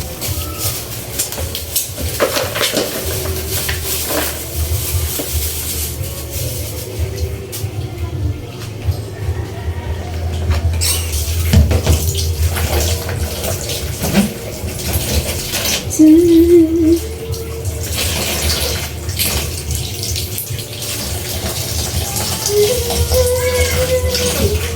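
Running water splashes steadily in a home kitchen while a bottle gourd (upo) is rinsed under it, a continuous close washing noise lasting the whole stretch with occasional knocks and brief background sounds.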